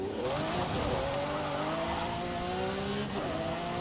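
A Lamborghini Aventador Ultimae in Forza Horizon 5 drives with a steady engine drone, its pitch rising and shifting through gear changes, and faint tyre noise under it.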